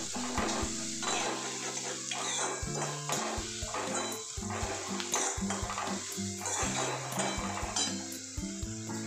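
A metal spoon scrapes and clanks against a pan while onion and rice are stirred together for a Maharashtrian fodnicha bhaat, producing repeated close knocks and scraping strokes with no talking.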